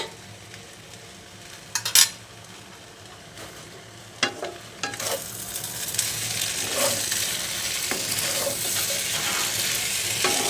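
Ghee sizzling in a pan as noodles with winter vegetables are stirred, a few sharp clinks of a utensil early, then a steady bright frying hiss that swells and continues close up.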